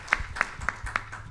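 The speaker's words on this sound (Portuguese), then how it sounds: "Um forte aplauso ao presidente Arno Velling." Applause at an academic session opening, heard as a few sparse, evenly spaced claps, fairly faint in a quiet hall.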